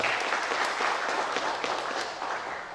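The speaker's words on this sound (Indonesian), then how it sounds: "Tepuk tangan dulu untuk Bapak Bupati" A crowd gathered for the opening of a regional badminton and futsal cup in Poso applauds the local regent, a steady rush of many hands clapping at moderate volume, tapering slightly toward the end.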